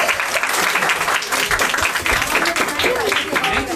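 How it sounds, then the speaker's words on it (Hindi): Children in a group clap together at a prize-giving, a steady, loud patter of many small hands that carries on through the whole stretch, with a murmur of voices mixed in. "तालियां बच्चों।"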